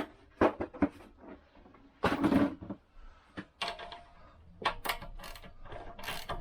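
Socket wrench turning the crankshaft of a Lambretta scooter's big-block engine in a workshop, giving a few irregular clicks, clunks and short ratcheting bursts, close and alone.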